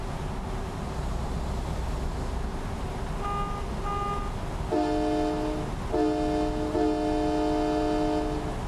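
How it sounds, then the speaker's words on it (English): Air horns on a truck in American Truck Simulator blast several times in the second half, sustained multi-tone train-style chords over a steady engine and road rumble. "I forgot I got my train horns back."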